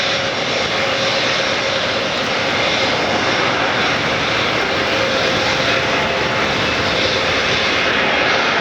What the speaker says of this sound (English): Spirit Wings 946 inbound from Cartagena in Colombia.